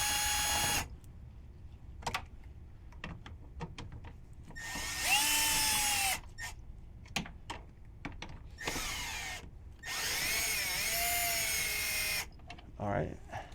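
A power drill whirs in several short bursts, separated by clicks and handling noises, fairly close, during a fuel filter replacement on a 6.7 Powerstroke diesel truck.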